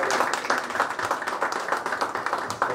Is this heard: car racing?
no